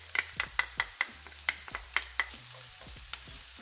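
Garlic goes into a hot frying pan and is stirred, giving a soft steady sizzle punctuated by repeated sharp scrapes and taps of a utensil against the pan, close and fairly quiet.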